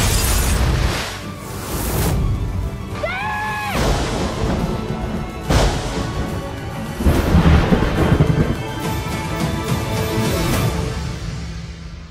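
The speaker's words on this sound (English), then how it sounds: "There'll be a storm soon." A thunderstorm with rolling thunder from a film trailer: loud booming rumbles and crashes roll through repeatedly, mixed with rain-like noise and score, with no speech.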